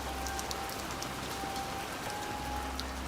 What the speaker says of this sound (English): It is a damp, rainy summer day when I return to the scene of the crime